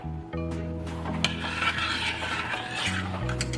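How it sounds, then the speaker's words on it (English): A utensil scrapes and stirs onions, seasonings and parsley in a pan, a steady close rubbing sound over a low continuous hum, with no talking. "So let me just mix that in"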